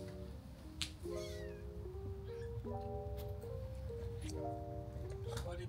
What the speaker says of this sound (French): Les petits chats.